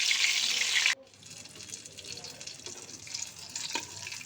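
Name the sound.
eggplant pieces frying in oil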